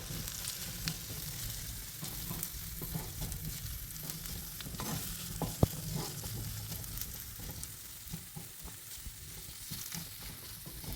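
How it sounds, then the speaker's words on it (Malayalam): Sliced green chillies sizzle and fry in a pan for a squid and potato roast, a steady crackling hiss with occasional stirring scrapes and light clinks, close and moderately quiet. "ഇനി ഇതിലേക്ക് നമ്മൾ പച്ചമുളക് ചേർത്ത് കൊടുക്കുന്നുണ്ട്."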